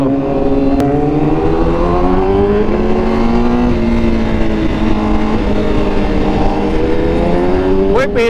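A Honda Fireblade motorcycle's engine and exhaust run loud and close, the steady drone shifting pitch as it revs up and down, with a quick rising rev near the end.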